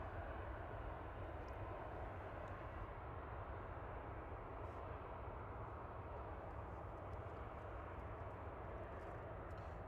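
An aircraft taxiing at Manchester Airport, a steady broad engine roar and whine that holds constant throughout at moderate distance, with no speech.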